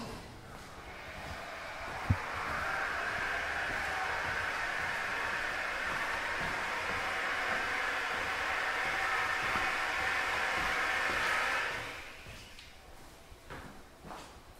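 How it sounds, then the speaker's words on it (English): A Schindler MT hydraulic elevator pump at a Quality Inn runs with a loud, steady broadband whir and hum for about ten seconds, preceded by a brief knock, then cuts off, leaving quiet clunks. "Those hydraulics are very loud."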